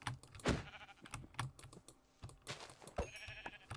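Sheep bleats from the game Minecraft, short cries over rapid keyboard typing, sounding close and fairly faint.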